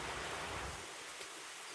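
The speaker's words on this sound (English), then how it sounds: "I thought I would capture this beautiful rain" Soft, steady rain falls outside a back porch in West Virginia on a cold June day, a faint, even hiss with a low rumble that fades partway through.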